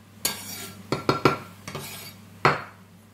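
Knife striking a cutting board while fresh parsley and oregano are chopped for a mushroom risotto, giving about six sharp, irregular thuds close by against a low steady hum.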